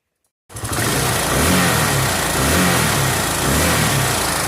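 A Kawasaki KLX 650 dirt bike engine roars loudly and close on a snowy ride, starting abruptly and holding a steady revving drone with slight rises and falls.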